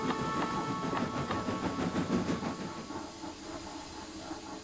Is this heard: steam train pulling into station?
yes